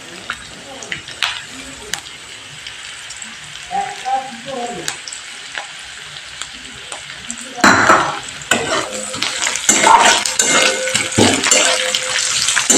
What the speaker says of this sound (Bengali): এবার আমি এর মধ্যে লঙ্কা কুচি আর রসুন কুচিটা অ্যাড করে দেবো।